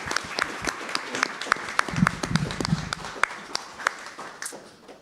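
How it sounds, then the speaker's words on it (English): Applause from a small audience at a school board meeting for honored students, scattered sharp claps that thin out over five seconds, with faint voices beneath. "So let's give them a round of applause."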